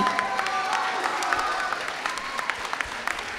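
An audience at a summer institute event claps and cheers, dense applause with crisp nearby claps and a few whoops rising over the crowd noise.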